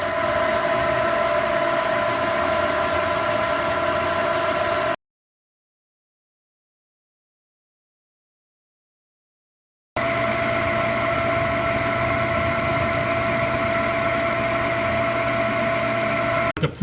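Lathe running at speed 300 taking a final finishing cut on a welded wheel hub, a steady machine drone with a constant whine, broken by a gap of silence midway.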